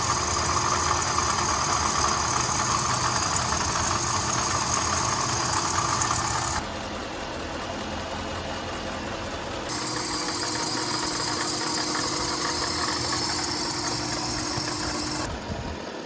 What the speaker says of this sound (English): So let's turn the car on here.